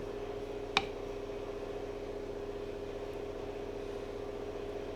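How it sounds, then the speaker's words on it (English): An air compressor runs steadily in a workshop downstairs, a constant low hum throughout with one brief sharp click near the start. "And that would be the air compressor."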